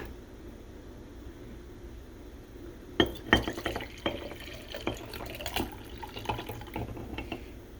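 Ginger and onion liquid is poured from a measuring cup into a container; a sharp clink of glass starts it, followed by irregular splashes, drips and small knocks, close and fairly quiet.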